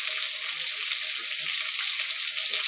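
Vegetables for chilli chicken fry lightly in a pan, a steady, close hiss of sizzling oil that runs evenly throughout, with faint clinks underneath.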